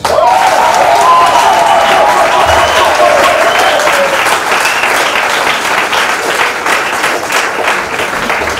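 A church congregation applauds to acclaim Jesus, sustained loud clapping with crowd cheering that continues steadily throughout and eases slightly toward the end.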